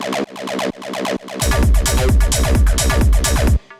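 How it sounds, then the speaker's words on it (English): TB-303 acid synth line with its chorus switched off, playing a rapid repeating pattern of short plucked notes, then joined by a loud, dense pounding low end for the rest of the phrase, steady and close with no talking. "if I turn this chorus off, you can hear like"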